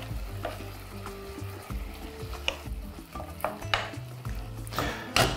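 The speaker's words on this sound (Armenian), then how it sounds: "Եվ տապակում ենք այնքան, մինչև կարմրեն մսակտորները։" Beef pieces fry in butter in a pan with a steady sizzle, broken by scattered clicks and scrapes of a utensil stirring against the pan.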